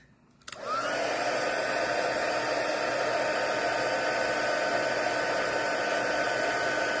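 A heat tool starts up with a click and then blows hot air over a card, a steady, close whooshing roar with a faint whine that holds evenly to the end.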